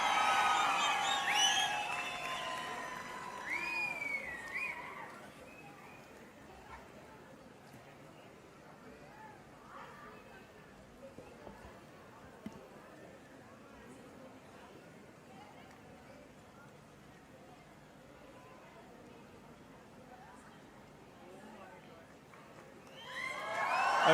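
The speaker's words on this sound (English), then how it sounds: "A huge round of applause there." Loud cheering and applause from a crowd at a Save Soil stage event in Mysuru as a Member of Parliament and Sadhguru arrive, strongest at the start, fading to a murmuring crowd, then swelling again at the end.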